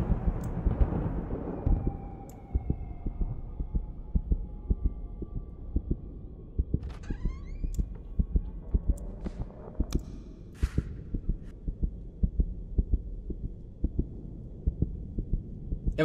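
A horror game's heartbeat pounds in a steady, quickening rhythm over a low hum, continuous and close, with a few faint clicks scattered above it.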